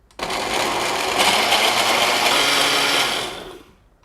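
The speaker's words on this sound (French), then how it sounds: "Et on fait marcher le blender jusqu'à obtenir" Blender whirring through sliced lemongrass and icing sugar, one close, loud continuous run of about three seconds that starts abruptly and spins down at the end.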